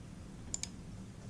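Two quick, faint mouse clicks about a tenth of a second apart, sharp and close, made while working in CATIA, with a low room hum underneath.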